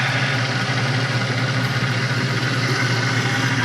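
A steady low boat engine rumble runs without pause at night, the motor droning evenly and close with no voices.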